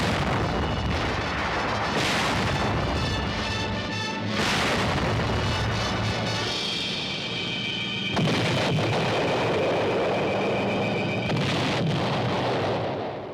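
Wartime artillery fire and air bombing: continuous heavy booming and rumbling explosions, loud and sustained, with layered blasts overlapping throughout and no speech.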